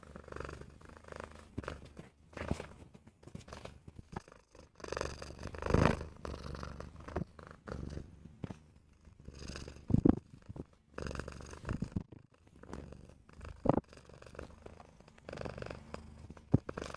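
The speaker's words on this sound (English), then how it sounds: "You want to purr for everyone?" A pet cat purrs steadily and close up indoors, a soft continuous rumble with faint rhythmic pulses and occasional small clicks and rustles.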